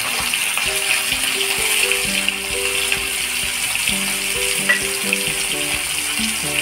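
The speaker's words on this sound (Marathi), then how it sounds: "तेल गरम करत ठेवलंय, याच्यामध्ये आता बोंबील फ्राय करून घेऊया" Bombay duck fish frying in hot oil, giving a loud, steady sizzle with dense crackle that stays close and constant, with no speech over it.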